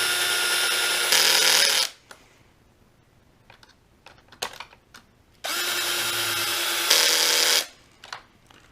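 A Traxxas X-Maxx RC truck's slipping clutch gives two loud, harsh whirring bursts, each lasting about two seconds and separated by short clicks and rattles, close to the listener with no talking.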